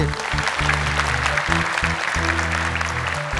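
TV studio audience applauding on a Quran recitation competition show, a steady clatter of clapping over loud, sustained low studio music that starts and stops in blocks.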